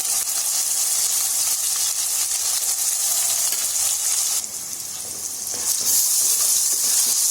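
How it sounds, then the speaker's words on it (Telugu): Gongura paste frying in hot oil as it is stirred, giving a steady, close sizzle and hiss with scraping stir sounds that ease for a moment midway and then come back at full strength. "ఇది నూనెలో బాగా మగ్గాలి గోంగూర."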